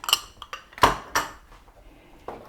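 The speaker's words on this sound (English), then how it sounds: "and stir this up really good" Spoon clinking and scraping in a metal pot while beef noodle casserole with Italian seasoning, salt and pepper is stirred, a handful of sharp, close metallic knocks spaced irregularly and quiet in between.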